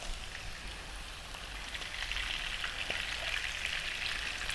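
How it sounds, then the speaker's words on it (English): Lamb chunks seasoned with salt and pepper sear in hot oil in a pan, giving a steady, dense sizzle and crackle close up with no talking. "I'm just going to sear it and get it kind of a little bit of colour on it first"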